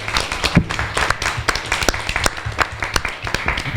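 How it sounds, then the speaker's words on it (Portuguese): Scattered applause from an audience at a deliberative council meeting, irregular claps of moderate loudness with some murmuring and voices mixed in. "eu quero uma salva de palmas para todos vocês que aqui estão."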